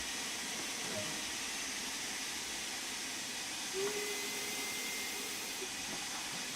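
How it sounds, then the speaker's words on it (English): A steam locomotive's ejector hisses steadily in the cab during a Train Sim World 2 steam rail tour, a broad continuous rush with a brief tonal squeal partway through. "We can open the large ejector to help that pump quicker, and let's just get a bit of steam going"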